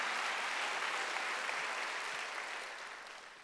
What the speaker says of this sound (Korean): 박수로 한번 하셨어요